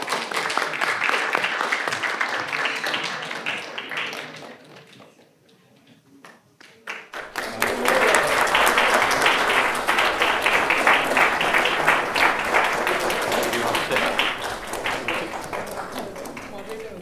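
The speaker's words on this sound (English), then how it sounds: "Please welcome them with a huge round of applause" A large audience applauds a sports panel at a university festival, with loud sustained clapping that dips briefly to near quiet midway, then swells back even stronger and continues steadily to the end.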